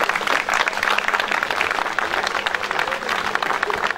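Steady applause from an audience at a village festival committee's 50th anniversary, many hands clapping densely and continuously throughout at a fairly loud, even level.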